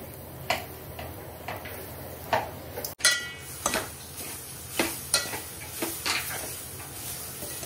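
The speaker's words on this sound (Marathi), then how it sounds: "आपल्याला हे साजूक तुपामध्ये हा खोबरं आपल्याला भाजून घ्यायचंय" Grated coconut frying in ghee with repeated stirring: a soft steady sizzle broken by sharp spoon scrapes and clinks against the pan, all close and with no voices.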